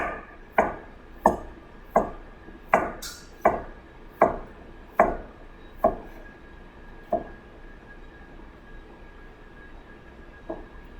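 A knife chops through an onion on a board for chicken stock, about a dozen crisp, evenly spaced thuds that slow and thin out toward the end, close and clear with no talk.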